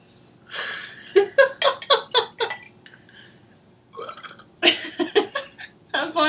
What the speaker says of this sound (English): wondering if we could burp